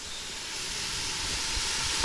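Onion paste hits hot oil for a fish curry, giving a loud, steady, close sizzle that holds without pause over a brief moment, with no voices.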